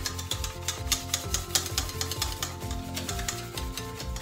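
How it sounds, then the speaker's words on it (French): Hand whisking of vegan quiche lorraine filling with a balloon whisk, a quick steady rhythm of wire strokes scraping and tapping against the bowl, close and fairly loud over faint background music. "Ça fait les bras de battre au fouet"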